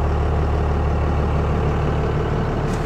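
A turbocharged truck engine runs on a dyno, a loud, steady low rumble with a constant droning tone throughout.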